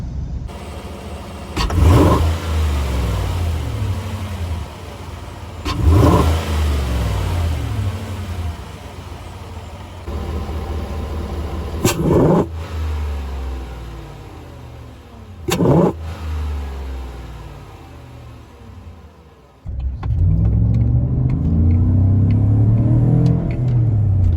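Car engine fitted with a Rough Country cold air intake revs hard several times in separate loud bursts, each climbing and falling, then settles into a sustained rumbling rev toward the end; no talking.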